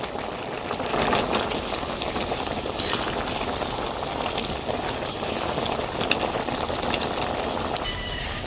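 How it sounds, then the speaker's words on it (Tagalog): Pork cubes simmer in a pot for igado, a steady bubbling, sizzling wash of liquid that stays even and close throughout. "Ilagay natin ang pork cubes."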